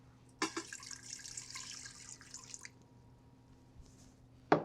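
Water pours into a 6-quart Instant Pot in a splashing stream lasting about two seconds, followed by quiet and a small clunk at the end.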